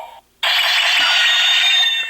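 A Power Rangers Morphicon ranger key toy gives a short electronic tone, then after a brief gap a brighter, loud buzzing chime that holds steady for nearly two seconds.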